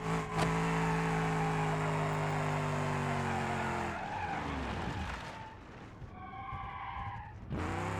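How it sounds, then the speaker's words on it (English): In BeamNG.Drive, a car's engine hums steadily as it slides sideways through a corner, its tires squealing and skidding loudly before the drift breaks into scrubbing and a rising whine. "I tried to drift the whole corner"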